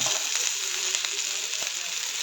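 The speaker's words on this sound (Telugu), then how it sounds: "ఇప్పుడు ఇవి బాగా కలబెట్టుకొని వేయించుకోవాలి. ఇట్లా బాగా వేయించుకోవాలి గైస్." Capsicum, tomato and green chillies fry in a pan with a steady, loud sizzle and crackle that holds unbroken from start to finish, a few sharper pops and spatters rising above the hiss.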